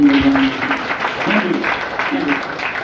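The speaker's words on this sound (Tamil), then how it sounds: "உண்மையாகவே அவருக்கு என் சார்பாக ஒரு கைத்தட்டலை" An audience claps at a Tamil culture and literary history seminar in Chennai, a short burst of steady applause with a voice speaking over it.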